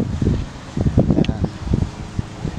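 Gusty, cold spring wind in New Zealand buffets the microphone in uneven low rumbling bursts, with no voices.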